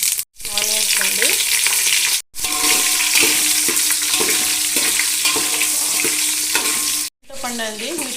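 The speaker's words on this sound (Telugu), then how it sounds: "ఆయిల్ హీట్ ఎక్కిందండి, ఆవాలు వేసాను, కొద్దిగా జీలకర్ర, ఆనియన్స్ అండి" Mustard seeds, cumin and onions frying in hot oil for sambar produce a loud, dense crackling sizzle with utensil clatter, interrupted by a few abrupt silent gaps.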